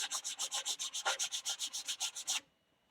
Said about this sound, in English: Just a little light sanding.